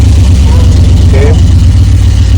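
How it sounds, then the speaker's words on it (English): A 1968 Ford Fairlane V8 with a B&M shifter cranks and settles into a loud, close, steady idle rumble, with a voice speaking over it. "Car starts."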